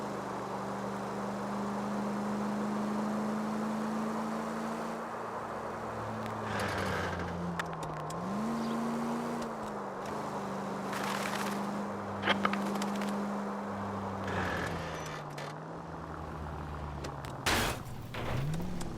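Car driving in the L.A. Noire video game, a steady engine drone that rises and dips as the driver accelerates and eases off, with a few bumps and knocks, no talk.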